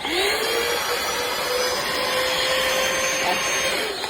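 A built-in electric pump on a full-size blow-up air mattress whirs steadily and loudly for about four seconds, a continuous motor drone with a rising start and a thin tone held throughout.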